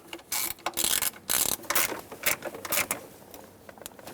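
Ratchet wrench snugging and tightening bolts on the intake manifold of a 1999-2016 Ford E-350 with a 5.4L V8; close, loud bursts of rapid clicking in short irregular strokes, no talking.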